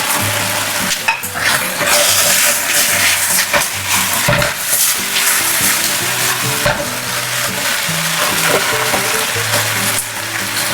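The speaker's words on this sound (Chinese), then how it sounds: "翻炒均匀后，把卷心菜放回锅里。" Chicken and cabbage stir-frying in a wok, a loud continuous sizzle with rhythmic tossing and scraping throughout, near and busy, with no voices.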